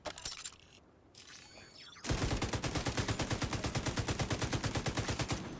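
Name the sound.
gunfire from a weapon in the video game The Division 2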